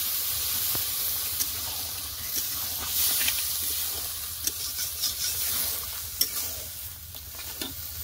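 Boiled peas tipped into a hot pan and stirred: a soft, steady sizzle under repeated scraping and clinking strokes of a spatula, close by with no talk.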